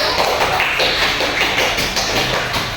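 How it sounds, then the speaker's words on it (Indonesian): Classroom applause for a student group after a math presentation, a dense, continuous patter of many hands clapping close by throughout, with no talking. "Berikan aplaus untuk kelompok 1."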